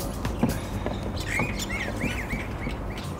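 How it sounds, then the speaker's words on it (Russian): Small birds chirp and tweet in short bright bursts scattered through the scene, fairly close, over a steady low background hum while a birdhouse is being built outdoors in Tajikistan. "Но там вот птички, они уже угорают над нами."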